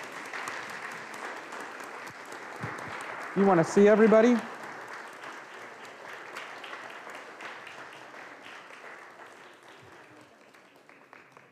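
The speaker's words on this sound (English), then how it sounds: "Let's give him a round of applause." A congregation in church applauds to welcome a newly baptized child named Lucas, steady clapping spread across the room with a brief louder burst partway through, a voice speaking over it.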